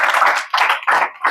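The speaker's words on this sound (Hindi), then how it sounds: "इनके लिए भी ताली बजा दीजिए भाई" A small classroom group claps in a few quick, close bursts of hand claps, loud and sharp with short gaps between them, no other sound around.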